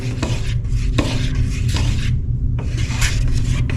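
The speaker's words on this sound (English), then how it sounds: "you still want to stir it" Scraping, rubbing strokes of a stir stick working through thick epoxy primer in a can, with clear periodic pulls, a short pause, then more steady stirring close by.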